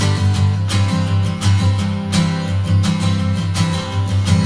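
Eastman E1 SS slope shoulder acoustic guitar in matte sunburst, strummed chords with a warm midrange in a steady rhythm, close and loud with no talking.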